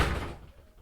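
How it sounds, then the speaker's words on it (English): A door is shut with a single dull thud that fades over a second, loud and close, with no talk. "Shut the door."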